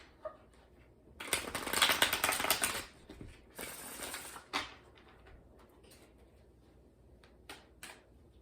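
Tarot cards from a Cosmic Tarot deck are shuffled in a crisp, fluttering burst up close. Softer slides and a few sharp snaps follow as cards are pulled and laid down.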